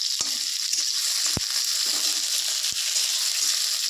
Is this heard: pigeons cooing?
no